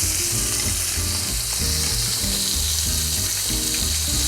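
Potatoes sizzle and crackle steadily in hot frying oil, a close, continuous bubbling hiss with faint stirring.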